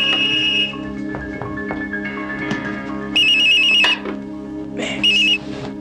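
A mobile phone rings with a bright electronic melody, repeating tonal phrases with louder bursts, heard indoors in an Iranian film scene with no talking over it.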